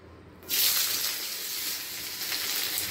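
Sliced onions hit smoking-hot oil in a wok and erupt into a sudden, bright sizzle that settles into a steady frying hiss.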